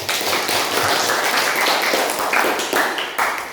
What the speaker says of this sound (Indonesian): Nah, tepuk tangan nak